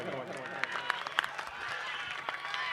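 Spectators at a district Maharashtra Kesari selection trial wrestling bout, 79 kg, Paranda vs Tuljapur, applaud with a dense, sustained clatter of clapping while an announcer speaks loudly over it.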